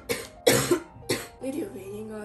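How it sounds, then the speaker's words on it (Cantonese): A sick person with pneumonia-like symptoms coughs about four times in close succession, loud and near, with harsh bursts and short gaps between them. "呢條片應該你哋係會係咁聽到係咁咳"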